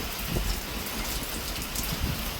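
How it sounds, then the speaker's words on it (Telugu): Heavy, steady rain pours down during a cyclone, a dense, close hiss of drops beating on surfaces with no break and no voices. "ఈరోజైతే ఉదయం రాత్రి నుంచి ఈ రాత్రి వరకు ఒకటే వాన"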